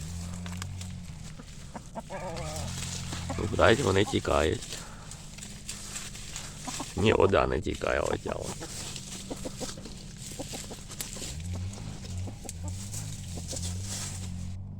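Hens cluck loudly in short bursts close by, amid scratching and movement, while people talk intermittently in the background.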